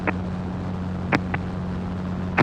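Gyrocopter engine running at 4,700 RPM in flight on approach to Big Bear, a steady low drone with strong harmonic hum, joined by a few brief broadband bursts, likely wind or radio clicks.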